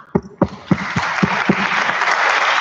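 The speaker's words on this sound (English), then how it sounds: "join me in a round of applause to thank everyone" Conference audience applauding at the close of a panel session. The applause begins with a few distinct claps and quickly builds into loud, dense, sustained clapping in a large room.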